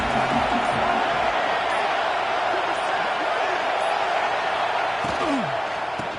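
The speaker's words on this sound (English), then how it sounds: "Here comes the noise from this big crowd in Happy Valley on 3rd down." A large stadium crowd roars in Happy Valley on third down in the NCAA 26 football video game, a dense, loud, continuous wash of crowd noise that holds steady throughout, with a commentator's voice faintly under it.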